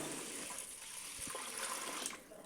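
Water pours steadily into rice in a pot in a continuous splashing stream, close and fairly loud, with no voices.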